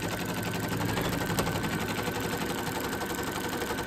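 A machine embroidery unit stitches an outline on a bunny treat holder, its steady whirring motor hum running close and continuous throughout, with a faint rapid needle patter.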